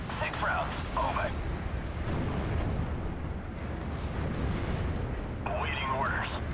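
Artillery fire in the World War II strategy game Steel Division: Normandy 44, a steady rumbling barrage of booms and blasts running throughout, with radio-style voices talking over it.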